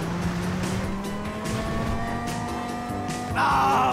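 A car drives in the GTA 5 video game, with a continuous engine whine that rises and falls and a brief tire squeal near the end. It sounds steady and close, with no talk.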